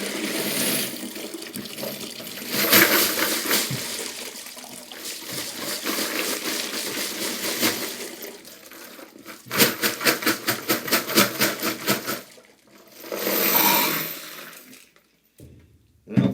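Water gushes and splashes out of a Frankford Arsenal wet tumbler, a long noisy pour that surges, eases and swells again in bursts before stopping.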